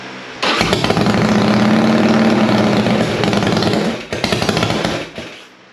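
A Harley Sportster chopper motorcycle engine running on its first start, loud rapid rough revving close up, stumbling briefly before catching again and then cutting out.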